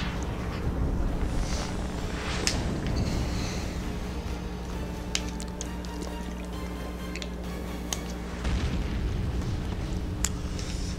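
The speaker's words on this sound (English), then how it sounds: "Chief causing explosions over here." Explosions and rumbling blasts in the Halo 4 campaign, a dense loud roar of booms with crackling debris and sharp impacts layered over continuous game sound.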